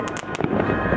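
New Year's fireworks going off, a quick pair of sharp cracks followed by another bang and a sustained crackling rumble, loud and close, over about a second.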